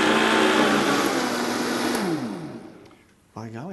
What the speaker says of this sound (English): we use this high-powered blender so it can blend that up smooth and easy